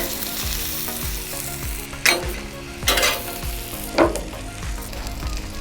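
A thick steak searing on a Blackstone griddle, giving a loud, steady close sizzle with a few bursts of sharper crackling and spatter, plus faint metallic utensil touches, no talking.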